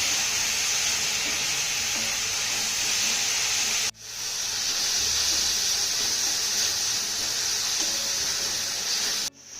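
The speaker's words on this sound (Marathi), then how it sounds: "आता हा टोमॅटो ना आपल्याला चांगला मौसूर होईपर्यंत परतून घ्यायचा आहे" Chopped tomato with salt sautés in a pan as part of a bitter gourd keema, giving a steady bright sizzle and hiss throughout, broken by two brief pauses, with no talking.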